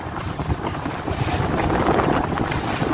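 A fishing boat moves through wind and small waves, with a rushing gust of wind noise over churning water and a low hull and engine rumble, steady and close.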